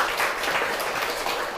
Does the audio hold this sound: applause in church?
yes